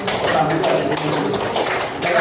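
A group of school Scouts claps a set of five beats together, sharp overlapping hand claps over a murmur of voices, close and fairly loud.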